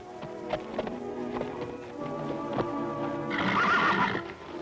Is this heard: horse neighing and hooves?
yes